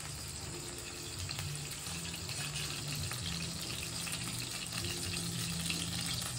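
Cooking oil heating in a pan while native chicken in coconut milk is being prepared, a steady, fairly quiet sizzling hiss running throughout with no talk.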